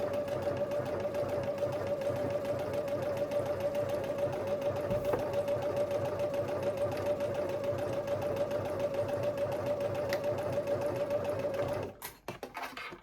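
Sewing machine stitching the stretched arm band of a tank top close to the edge, a steady continuous whirring hum running loud and unbroken for about twelve seconds before stopping, with brief handling noise at the end.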